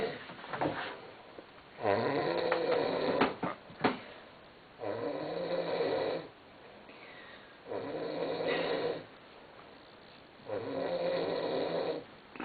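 A man snores loudly in his sleep, in Gravatá, with four long, heavy rasping inhalations separated by short quiet pauses, close to the microphone and with no talk.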